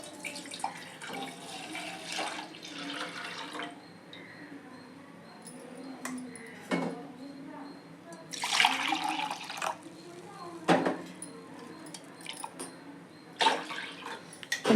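Milk pours and splashes into a metal pan in short bursts while making almond kheer, with clinks of a utensil and some quiet kitchen handling noise nearby.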